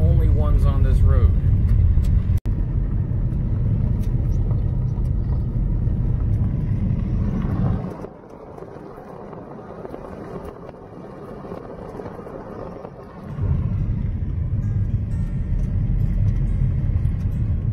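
A car drives along a quiet prairie road, its engine rumble and tyre roar loud and steady, briefly dropping to a softer, muffled drone midway before swelling back up.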